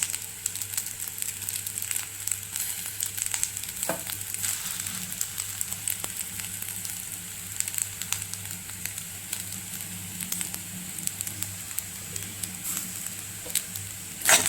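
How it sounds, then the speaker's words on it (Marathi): Chitrann, a South Indian lemon rice, sizzles steadily in a hot pan while being stirred, with scattered scraping and crackling ticks running under a constant frying hiss, close by and with no talking. "व्यवस्थित हलवून घेऊया"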